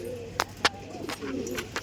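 Pigeons in a home loft coo with low, rolling calls, broken by a few sharp clicks and knocks nearby; the sound is fairly quiet and there is no speech.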